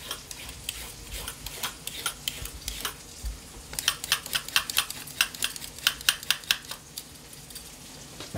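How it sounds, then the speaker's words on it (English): A carrot is scraped with a peeler on a kitchen work surface, producing a run of quick, crisp rasping strokes that speed up into a steady rhythmic series, close and fairly quiet. "Carrot peel."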